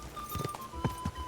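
Horse hoofbeats in the video game Kingdom Come Deliverance 2, a few soft uneven clip-clop thuds at close range over a faint steady background tone.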